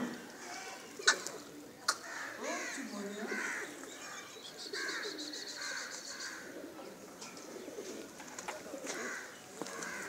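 Soft, throaty cooing from several pigeons, repeated in low rolling phrases, with a couple of sharper bird calls and faint voices in the background.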